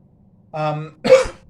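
A short voiced throat sound followed by one sharp, harsh cough, close and fairly loud, in an otherwise quiet room.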